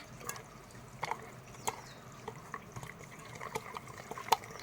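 A thick face pack is stirred with aloe vera gel, making faint, soft wet squelches and small sticky clicks that come and go irregularly at close range.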